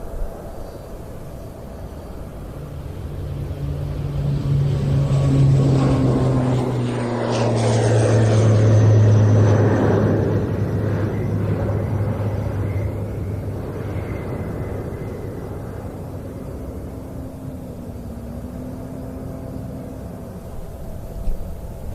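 A military transport aircraft departs the Royal International Air Tattoo, its propeller engines droning loud and steady as it passes by, the engine note swelling and fading over a continuous open-air roar.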